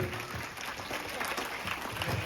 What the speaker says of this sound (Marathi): पुन्हा एकदा आपण त्यांचं जोरात टाळ्या वाजवून त्यांचं स्वागत करूया